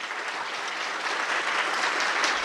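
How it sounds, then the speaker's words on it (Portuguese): A crowd gives a round of applause for staff members at a Brazilian football club event, steady dense clapping filling the room for the whole stretch without speech. "eu queria pedir aos senhores uma salva de palmas para esses profissionais que trabalharam aqui"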